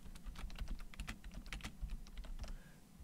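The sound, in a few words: typing text on a computer keyboard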